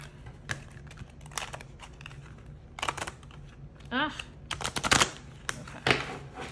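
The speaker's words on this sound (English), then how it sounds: "Let's do 2 more shuffles." Playing cards riffle and snap in several quick bursts during a tarot reading, crisp and close, separated by short pauses.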